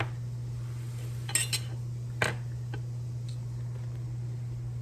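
A metal ladle scooping homemade grape juice into a pan, giving a few light clinks and taps of utensil against metal over a steady low hum, faint and close.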